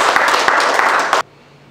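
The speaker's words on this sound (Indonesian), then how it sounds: "Tepuk tangan dulu ini." Applause in a classroom lesson: a short, dense burst of many hands clapping together for about a second, loud and close, which stops abruptly into near quiet.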